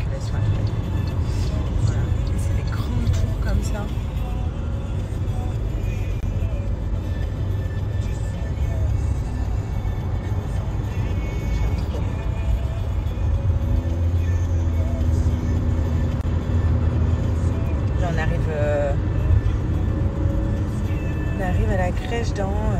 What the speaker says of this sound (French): En vrai, il y a beaucoup de circulation à Dubaï.